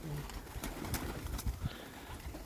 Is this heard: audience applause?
no